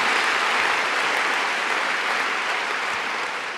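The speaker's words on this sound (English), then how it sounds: "Let's have another round of applause for Maureen." Audience applause at the Nancy Hanks Lecture for Maureen Dowd, a dense, steady wash of clapping from a large crowd that carries on throughout and eases off slightly at the end.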